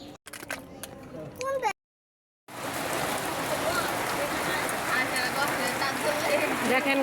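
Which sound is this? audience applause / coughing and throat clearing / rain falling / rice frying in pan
rain falling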